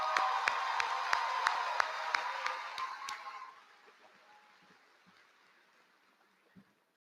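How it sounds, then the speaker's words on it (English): Audience applause at a 2024 high school graduation ceremony, a crowd clapping and cheering with rhythmic claps standing out, fading away after a few seconds into a quiet room with occasional scattered sounds. "Let's give them a round of applause."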